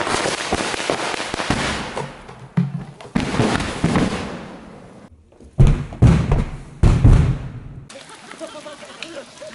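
Car explosion special effect set off at a pyrotechnics course, heavy booming blasts and thuds with rumbling debris, several loud bursts in a row followed by fading rumble, close and powerful.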